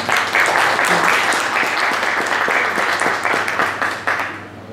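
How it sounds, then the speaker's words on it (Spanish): An audience claps for a female teacher introduced at a public administration talk, steady sustained applause filling the room from start to finish before tapering slightly at the end. "un aplauso a la maestra Sandra Cornejo Zabaleta"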